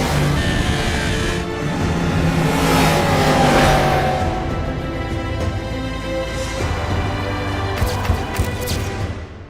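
A Yamaha R1M superbike engine revving and accelerating, a loud sustained motor roar that swells and fades with rising pitch over about ten seconds, heard alone without speech.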